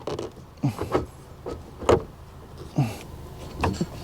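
A soft mechanical whir and several brief sliding rattles of a weak-tensioned roller sunshade retracting unevenly in a 2021 Volvo S60 B5, repeated a few times at close range with no talking.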